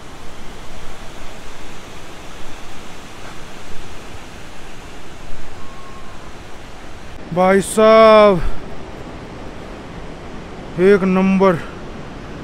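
A rushing mountain river on the Kedarnath trek, a loud continuous roar of fast water up close, with a voice cutting in briefly twice over the torrent.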